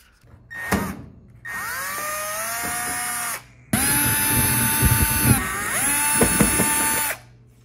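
Cordless power drill backing screws out of a washing machine panel, several loud close whirring runs with rising and falling motor pitch, separated by brief pauses and clicks.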